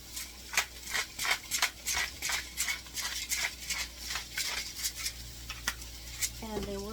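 Caramelized onions are stirred in a pan, a spoon scraping in quick rhythmic strokes of about two per second over a soft sizzle, close, ending with a brief clink.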